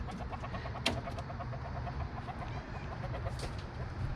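Backyard chickens squawking and clucking in a repeated, close, chattering rhythm, with a couple of sharper outbursts over a steady low background hum.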